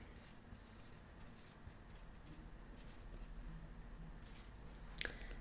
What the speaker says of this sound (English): I'm going to write here